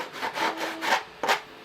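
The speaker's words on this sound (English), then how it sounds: "I'm just going to take this 220 sanding sponge and I'm going to lightly" A 220-grit sanding sponge rubs back and forth against the lip of a 787 Dreamliner test mold in four soft, raspy strokes, close and fairly quiet.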